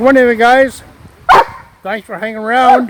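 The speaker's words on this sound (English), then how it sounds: "Sorry for the dog" A dog gives a few close, loud barks in quick bursts, a sharp yelp in the middle, with someone talking between and over them.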